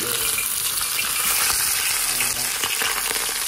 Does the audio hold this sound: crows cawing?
no